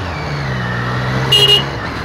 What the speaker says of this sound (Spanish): a veces se me escapa un bocinazo muy fuerte para lo que yo quiero bocinear